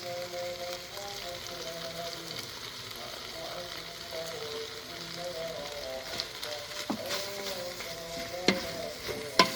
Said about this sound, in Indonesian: Dan dikacau.